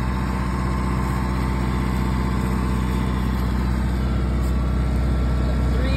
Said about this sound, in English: this man was out here picking corn with the two-row picker